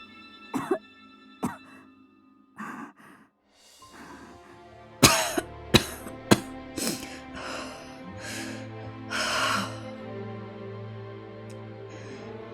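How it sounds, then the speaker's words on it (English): A feverish, ailing boy character in the video game Virche Evermore coughs and gasps in pain, a run of harsh, separate coughs and strained breaths over a soft sustained music score, some bursts sharp and loud, others weaker. "he panted heavily between pain coughs"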